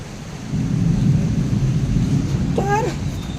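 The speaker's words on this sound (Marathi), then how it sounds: "इथं पाऊस बघा किती जोरात पडतोय बघा" Heavy rain falling during a thunderstorm, a dense steady roar of rainfall with a deep low rumble, and a brief wavering animal-like cry near the end.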